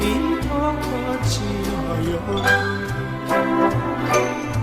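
Bright pitched percussion notes ring out in a bouncy rhythmic pattern over a full musical backing in a song, each strike with a short metallic decay.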